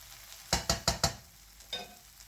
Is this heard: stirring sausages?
yes